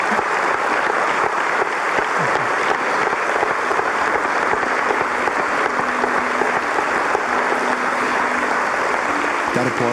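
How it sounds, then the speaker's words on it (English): A church congregation applauds steadily, a dense roomful of clapping hands that holds at a constant level, with faint voices mixed into the crowd noise. "That applause you hear,"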